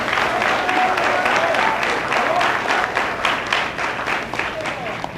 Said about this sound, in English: So if y'all would, please give them a round of applause.